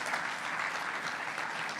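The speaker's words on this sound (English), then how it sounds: "you're getting some good applause on the room" An indoor audience applauds in a room, steady even clapping throughout that stays moderately loud with no voices over it.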